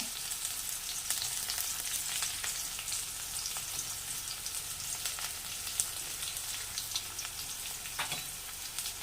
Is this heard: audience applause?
no